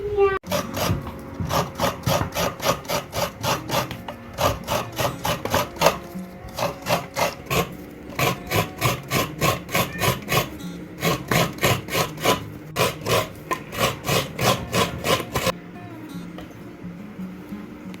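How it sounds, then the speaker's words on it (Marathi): A coconut is scraped on a hand grater in quick, even rasping strokes, dozens in a steady rhythm, close and clear for about fifteen seconds before the scraping stops. "त्याला खवणून घेऊ याच्यातून किसनीने त्याचं नार आपलं खोबरं काढू"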